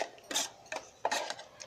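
Spoon clinks and scrapes while stirring tomato date chutney with sugar inside an electric kettle, in three short bursts of metallic clatter separated by brief quiet gaps.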